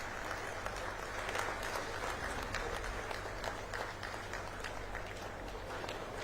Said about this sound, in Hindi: जोर से ताली बजाइए, तालियां बजती रहनी चाहिए।